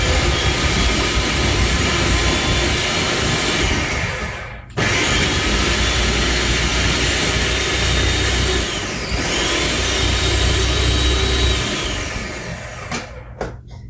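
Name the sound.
food processor pulsing garlic and broccoli for black bean burgers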